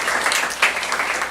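A church congregation claps together during a Saturday worship service, a short, even burst of moderate applause with no voices over it.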